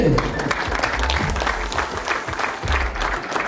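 Guests at a Rwandan wedding clap together in a steady, dense round of applause, fairly loud and close, with voices mixed in underneath.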